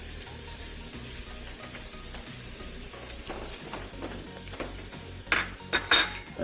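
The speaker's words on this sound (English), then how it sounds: "Add some garlic. I'll let that cook for a minute." Garlic cooking in a pan: a soft, steady sizzle under repeated scraping and stirring, then a few sharp utensil clinks against the pan near the end.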